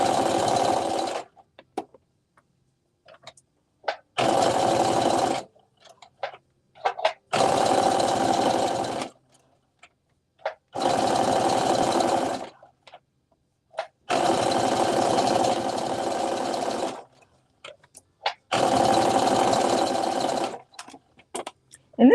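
A sewing machine stitches a seam on a sweatsuit top in six loud, close bursts of steady whirring, separated by short quiet pauses.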